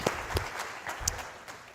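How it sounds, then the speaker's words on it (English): Audience applause at the AFRL Inspire 2023 event, a brief scattered round of claps with a few sharp individual hits, fairly close and moderately loud. "So another round of applause for our audience"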